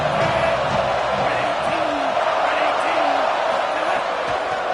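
A large football stadium crowd roars in a continuous wall of cheering, loud and sustained with scattered whoops rising above the din.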